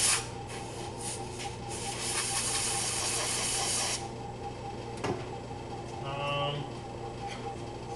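A steady, loud hiss of compressed air blasts debris off a Franklin engine piston for about four seconds, then cuts off, followed by faint shop clatter and a brief tonal whine.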